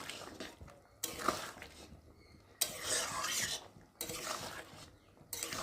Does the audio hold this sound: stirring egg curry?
yes